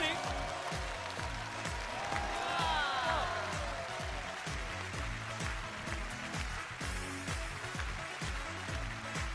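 A studio audience on a Chinese TV variety game show clapping steadily under loud rhythmic stage music, with a voice heard over it.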